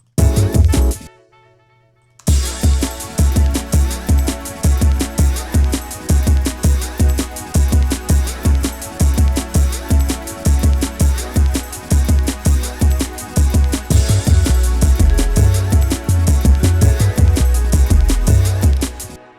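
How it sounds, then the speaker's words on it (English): A jazzy drum and bass groove with punchy, fast breakbeat drums and deep bass under soft atmospheric pads, starting after a brief quiet gap. "I do bring in some atmospheric pads, trying to meld those in with the jazzier side."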